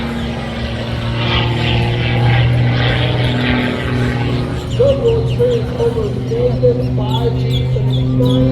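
A propeller airplane at a Tavares, Florida airshow drones loudly overhead with a steady, buzzing engine tone that thins slightly midway, while birds chirp faintly nearby.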